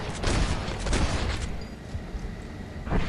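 Gunfire in the Western game Red Dead Redemption, a dense stretch of overlapping shots and booming reports that keeps up with little pause, loud and close throughout.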